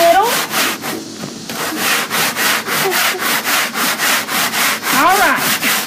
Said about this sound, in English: And this is just hand sanding this just a little.